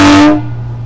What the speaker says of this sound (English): there's an air horn in this bus.